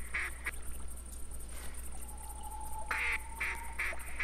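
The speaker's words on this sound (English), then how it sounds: "Now I can hear ducks." Ducks quack in the hunting video game TheHunter, a few short bursts of calls repeating at a moderate distance over a steady outdoor ambience, faint at first and busier toward the end.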